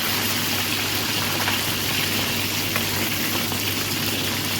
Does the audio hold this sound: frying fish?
yes